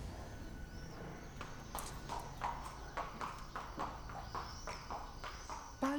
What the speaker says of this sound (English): Palio jockey Alberto takes advantage of the backstreet calm to connect with his horse